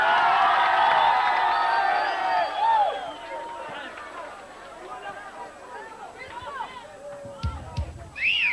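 A concert crowd cheers and whoops for a band at a 1994 show, loud overlapping shouts at first that fade into scattered calls and babble, with a few sharp bumps near the end.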